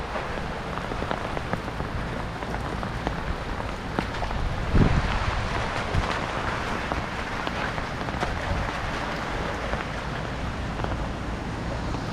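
Heavy summer storm rain pours steadily onto surfaces, with gusting wind buffeting the microphone throughout and one brief louder gust midway, loud and close with no voices.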